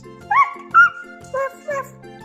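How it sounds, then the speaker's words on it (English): A farm animal toy plays a recorded dog barking: four short, separate yapping barks spread unevenly across the clip, close and fairly loud, with a soft low electronic hum between them and no talking. "This one is a dog. The dog goes"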